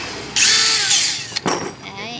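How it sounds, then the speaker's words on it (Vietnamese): Cordless drill driving a copper pipe flaring tool, a short loud whirring burst that spins up, dips briefly and revs again before winding down, close to the microphone. "Em đã test thử cả máy khoan pin và máy khoan điện để cho các bác được tham khảo."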